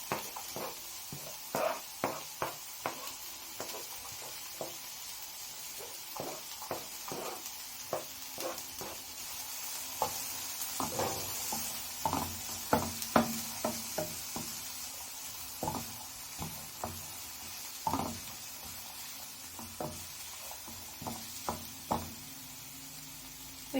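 Onions, tomato, capsicum and carrots fry in a pan. A soft sizzle runs throughout, broken by frequent quiet scrapes and clacks as the vegetables are stirred. There is no talk.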